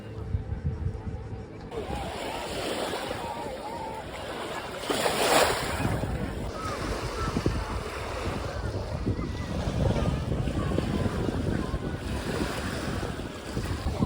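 Ocean surf rolls in steadily at a beach, a continuous wash of breaking waves mixed with heavy wind buffeting the microphone, with no clear voices over it.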